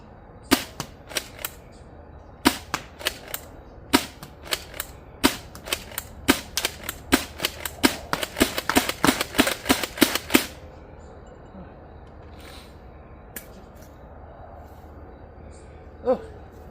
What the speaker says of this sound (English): I know this is kind of a short firing demo